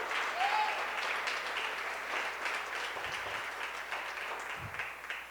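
Church congregation applauding during a Spanish-language sermon, a sustained wash of many hands clapping that stays fairly even and gradually thins toward the end, with faint voices underneath.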